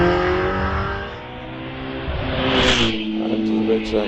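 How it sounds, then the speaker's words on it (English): A Lotus Elise sports car pulls away from the start line of a hillclimb course at Prescott, its engine revving and rising in pitch as it accelerates, heard under a commentator's voice. "gets away now in his Lotus Elise"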